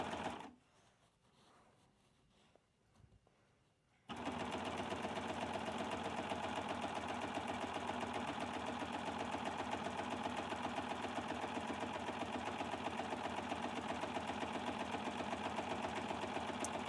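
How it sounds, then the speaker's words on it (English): A serger sewing machine stitches a standard 4-thread seam while inserting a zipper, starting after a few quiet seconds and then running as a loud, steady, continuous mechanical whir and rapid clatter until the end. "And I am serging."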